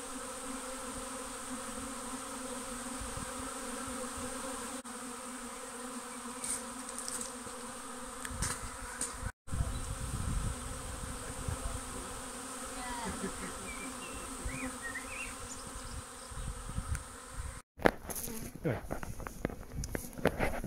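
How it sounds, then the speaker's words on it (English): A honeybee swarm caught in a garden buzzes steadily at the hive entrance, a dense, continuous close drone that carries on for the whole stretch with a few brief dropouts, and faint voices beneath it. "This was a swarm that we got in the garden"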